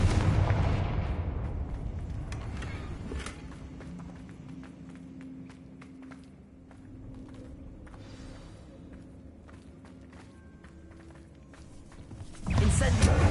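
In the Hogwarts Legacy video game, a Confringo explosive spell sets off a heavy rumbling blast at the start and another at the end. Between them is a quieter stretch of softer game sounds.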